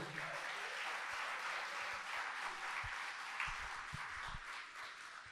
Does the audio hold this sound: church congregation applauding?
yes